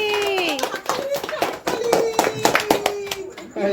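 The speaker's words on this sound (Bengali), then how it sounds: "হাততালি" Hand clapping at a family birthday celebration, a run of sharp, close claps with a rough rhythm, mixed with voices and someone talking.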